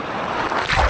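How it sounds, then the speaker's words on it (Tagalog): Rushing, roaring surf at Boracay with steady wind noise buffeting the microphone, the wash of water swelling louder toward the end. "Ang lakas ng alon."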